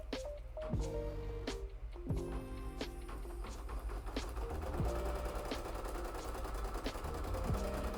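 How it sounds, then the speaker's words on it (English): An embroidery machine stitches the outline of a plush pattern piece with a steady mechanical whirring and rhythmic clicking, faint and continuous with occasional sharper ratcheting knocks. "the very last thing is just to sew the outline of the pattern piece again"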